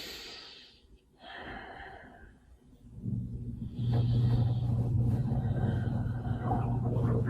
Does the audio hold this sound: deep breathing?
yes